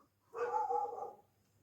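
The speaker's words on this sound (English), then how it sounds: "dog" A single short dog bark, fairly quiet and somewhat distant, stands out against near silence.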